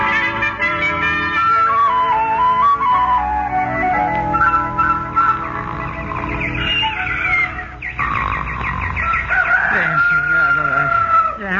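Hens cluck and a rooster crows amid a busy old-time radio comedy soundtrack, the poultry calls rising and falling in short bursts mixed with whistle-like tones and background music throughout.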